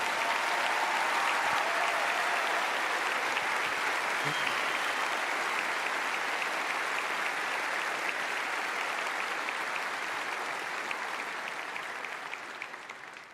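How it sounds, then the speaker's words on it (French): A large audience at a tribute ceremony for tennis player Gaël Monfils applauds loudly and steadily, a dense sustained wash of clapping that fades slightly toward the end. "je vous demande d'applaudir mes parents"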